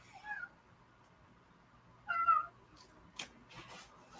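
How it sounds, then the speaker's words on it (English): A cat meows twice, a short call then a longer, louder one about two seconds later, close by in a quiet room, followed by faint clicks and rustling. "I got a kitty trying to be witty."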